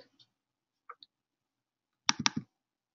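Computer mouse clicks sound close and crisp on a quiet desk: a few isolated taps, then a quick cluster of three or four louder clicks.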